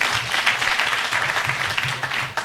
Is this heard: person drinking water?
no